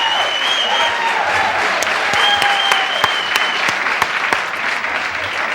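Studio audience applause at a late-night talk show taping, a steady dense wash of clapping that holds for several seconds at a strong level.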